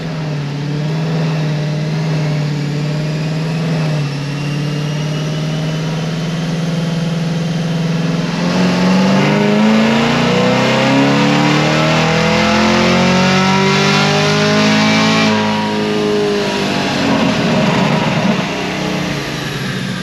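A supercharged car engine on a dyno pulls hard through a long rising rev, loud and close, its pitch sweeping upward and then dropping back as the run ends.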